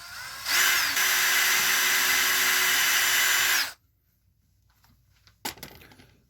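A DeWalt Atomic Series cordless drill bores a hole for jewelry making, a steady high-pitched whine lasting about three seconds that stops abruptly, followed by faint clinks and a brief metallic tap.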